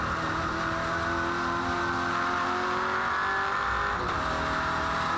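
A V8 race car engine roars continuously at high revs during a race, loud and sustained with shifting engine tones and no talk.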